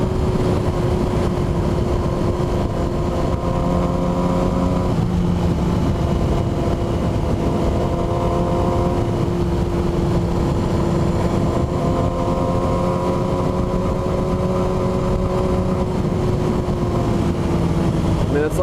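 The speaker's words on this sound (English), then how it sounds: "just hearing the motorcycle roar through the forest" A steady motorcycle engine drone hums continuously at a constant pitch while riding through a forest, loud and close, with no talking and no clear rises or drops in revs.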